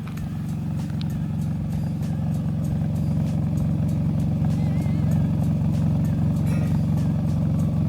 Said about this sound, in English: we're going to see what my stock exhaust measures